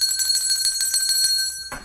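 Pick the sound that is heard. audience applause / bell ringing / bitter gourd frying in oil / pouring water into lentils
bell ringing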